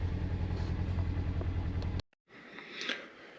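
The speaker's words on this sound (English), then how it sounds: "Listen to her idle." A Polaris Ranger Northstar engine idles with a steady, low, even rumble heard up close for about two seconds, then cuts off abruptly, leaving only faint background noise.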